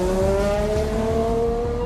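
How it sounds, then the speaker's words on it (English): Ferrari F50's naturally aspirated V12 engine roars steadily, a loud, close, rising tone with a pulsing low rumble, heard alone for a brief moment. "the roar of a naturally aspirated V12 that roared aggressively"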